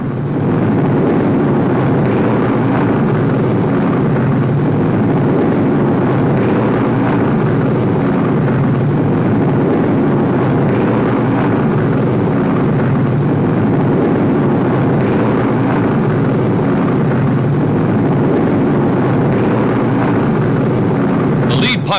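A 1943 RAF bomber flies low over treetops toward the Eindhoven radio works in the Netherlands, a loud, unbroken engine roar that fills the whole stretch at near-constant level.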